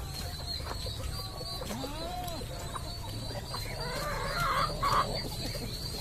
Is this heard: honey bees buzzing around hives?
no